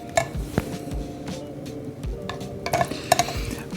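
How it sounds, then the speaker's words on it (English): Cascara coffee cherry stirred in a brewing pot, with close scraping and swishing of a utensil and several sharp clinks against the vessel, no voices. "I will keep stirring"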